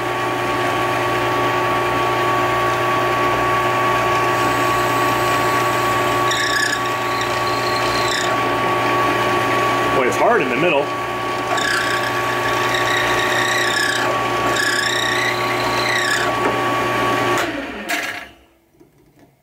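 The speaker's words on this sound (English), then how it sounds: "I have the doomed golf ball in my handy drill press vise here, and we're going to turn it on, poke a hole in it" A bench drill press runs with a steady mechanical whine while its bit pushes into a golf ball clamped in a vise. Brief squealing bursts of the bit grinding on the hard cover rise over the drone before the motor winds down near the end.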